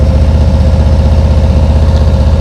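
A motorcycle engine idles in first gear with a steady low, throbbing pulse, close and loud, and no voices.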